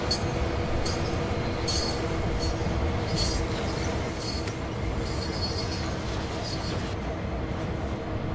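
An SD40 diesel locomotive in Train Sim World 2 rolls through a Cheyenne refinery yard, its steady engine rumble and wheel noise continuous and close, with faint squeals and clanks along the way.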